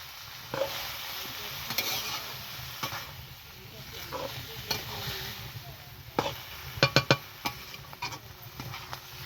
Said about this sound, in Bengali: নাড়াচাড়া করে নেবো, একটু লবণ দিয়ে দেবো।